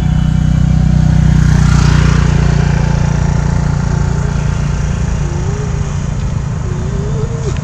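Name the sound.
motorbike engine while parking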